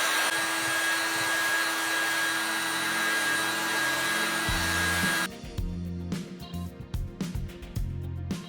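A heat tool blows steadily with a broad, even whoosh while an IOD Joie des Roses transfer on DIY wall art is warmed, then cuts off around five seconds, leaving close handling knocks and taps.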